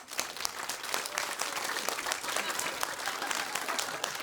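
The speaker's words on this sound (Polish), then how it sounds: "Wielkie brawa dla niego!" A cabaret audience gives a loud, dense round of applause for a reggae performer stepping onstage, with many hands clapping steadily throughout.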